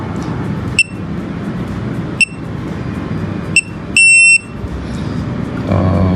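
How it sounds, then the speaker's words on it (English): A VLOCK G9 smart lock sounds a series of short, sharp electronic beeps spaced about a second or more apart, ending in one longer sustained beep, over a steady low background hum. "after it has a long beep, then you register the admin fingerprint"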